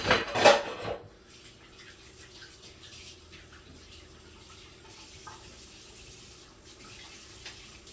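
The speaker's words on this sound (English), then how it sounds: "So then I'm going to clean off this board." A brief clatter at the sink, then soft running water and light scraping as a cutting board is rinsed while frying chicken, quiet and close with occasional small knocks.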